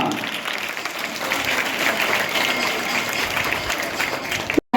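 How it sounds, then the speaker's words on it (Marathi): Steady, dense applause from a crowd clapping continuously at a school's first-day welcome ceremony, fairly loud and close, cutting off abruptly near the end. "टाळ्या"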